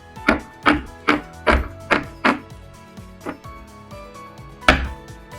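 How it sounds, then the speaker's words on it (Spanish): Scissors snip away excess fabric at the neckline of a women's jumpsuit being sewn. About seven sharp, clipped cuts land in an uneven rhythm, close and fairly loud, with short pauses between them and no talking. "Vamos a cortar un poco este exceso de tela para que no quede tan grueso."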